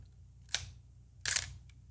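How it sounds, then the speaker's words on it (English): Two crisp Canon EOS R camera shutter clicks, about three-quarters of a second apart, close and distinct against a faint low hum. "the shutter noise. Let's hear that one more time."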